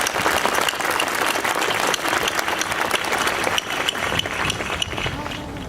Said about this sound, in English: Students, will you please join me in a round of applause to recognize all that the faculty and staff have contributed to your education.